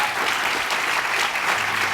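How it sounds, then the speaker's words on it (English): An audience at a panel discussion on voter rights and voter suppression applauds steadily, a dense, sustained wash of clapping filling the room with no speech over it. "please give them a good round of applause"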